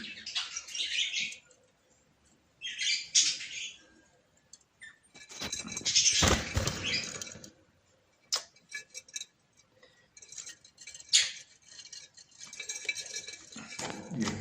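A crested king size parrot breeder pair making bursts of high chirps and squawks, separated by quiet gaps, close and moderately loud, with a few sharp ticking knocks between calls.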